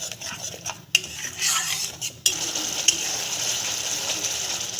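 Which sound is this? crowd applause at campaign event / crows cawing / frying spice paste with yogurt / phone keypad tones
frying spice paste with yogurt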